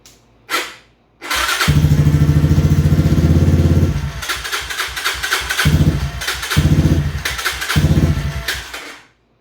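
A Yamaha Raptor 250 ATV with a faulty starter solenoid cranks, fires up and runs loud and close, its exhaust rumbling steadily and then rising in repeated throttle blips before cutting off.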